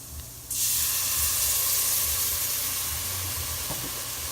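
Browned pan drippings burst into a loud, sudden hiss as milk pours in for gravy, settling into a steady, bright sizzle that carries on to the end.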